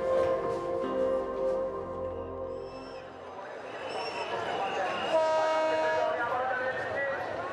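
Passenger train in Bangladesh rumbling along with steady wheel and carriage noise, a long horn blast sounding partway through, close and fairly loud, with scattered crowd voices in the background.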